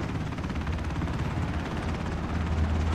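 A helicopter in the battle-royale game Ring of Elysium, a dense, continuous rotor thrum with broad whooshing wash, steady and close for the whole stretch, no voices over it.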